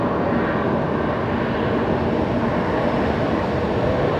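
A loud, steady jet engine rumble fills the air as an airplane taxis at night at Brisbane Airport, a constant broadband roar without pauses or voices.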